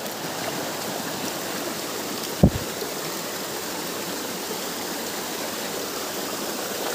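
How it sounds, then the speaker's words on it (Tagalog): Small natural waterfalls feed a flowing stream, giving a steady, close, full rush of water that holds evenly throughout. A single brief knock stands out partway through. "may mga maliliit na falls dito oh. Natural siya."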